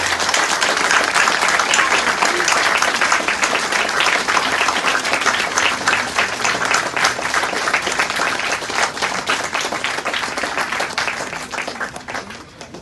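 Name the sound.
applause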